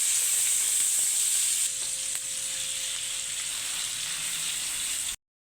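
Garlic and onion sizzle in hot cooking oil while being stirred, a steady bright frying hiss close up that holds for about five seconds before cutting off abruptly, with no voices.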